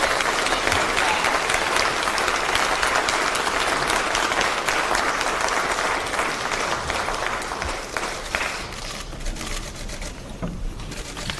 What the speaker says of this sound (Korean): 여러분 모두 박수로 맞이해주시기 바랍니다.